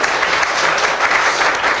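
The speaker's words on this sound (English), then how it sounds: "Go on, round of applause." An audience at a programming talk gives a short, loud round of applause, dense clapping filling the room with nothing else heard.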